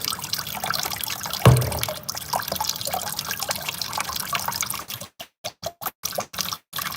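Tap water runs steadily over hands being rinsed after handling garlic in a kitchen, a continuous close splashing hiss that then breaks into short bursts as the flow is interrupted, with no talking.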